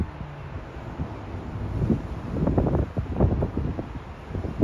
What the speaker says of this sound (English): That is how windy.